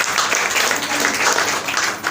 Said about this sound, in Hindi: एक जोरदार ताली आप सबके लिए होनी चाहिए।